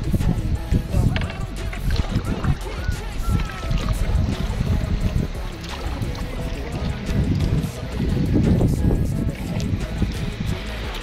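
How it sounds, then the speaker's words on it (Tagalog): Steady wind buffets the microphone with low rumbling gusts, surging strongest near the end, over faint water lapping nearby. "medyo mahangin lang dito"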